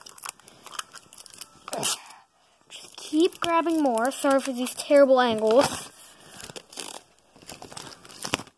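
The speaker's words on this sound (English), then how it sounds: "you wrap this tape around this edge, as that." Tape being wrapped around the edge of a laptop during a repair, giving crinkling, tearing and crunching rustles in scattered bursts, close by, with a person talking over and between them.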